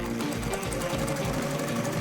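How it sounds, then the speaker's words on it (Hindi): A sewing machine runs steadily in a craft setting, a continuous fast mechanical whir with regular rhythmic pulsing, moderately loud and alone without speech. "सिलाई मशीन काम पर लग गई है।"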